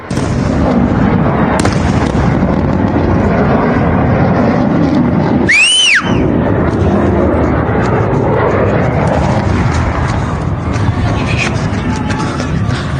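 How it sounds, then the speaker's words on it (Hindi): Fighter jets fire shells in an attack during a pilot rescue in Iran, a loud, unbroken roar of aircraft and blasts with a sharp rising whistle sweeping through around the middle. "एक के बाद एक फाइटर्स ने गोले दागने शुरू किया, अटैक किया"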